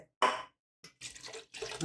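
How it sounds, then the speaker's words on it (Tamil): Several short splashy pours of water into a pot of mutton biryani, coming in separate bursts with pauses between them, close by. "இப்போ மீதி தண்ணியை நம்ம சேர்த்து விட்டுடலாம்"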